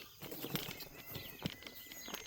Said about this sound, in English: look at all the doves flying out there